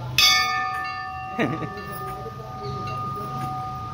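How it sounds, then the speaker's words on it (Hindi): Temple bell at a Hanuman temple, struck twice with a bright metallic clang and long ringing decay, the second strike softer, with faint voices in the background. "घंटा बजा"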